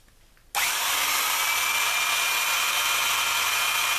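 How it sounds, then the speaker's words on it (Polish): A power drill bores through the plastic casing of a Motorola TLKR T40 PMR radio, starting abruptly after a short quiet moment and then running as a loud, steady, high-pitched whine. "Dokonujemy dalszej części wiercenia."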